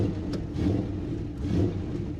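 A Ford F100 truck engine idling with a deep, rough rumble and two brief swells of revving, close and steady for a couple of seconds.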